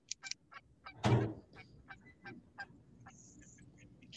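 Geese honking by a lake, a few sharp honks and calls scattered through the stretch, with a dull thump partway in and quiet background between calls.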